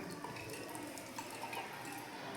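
Water poured steadily into a container of sodium hydroxide to make a solution, a soft continuous splashing trickle, fairly quiet and close by.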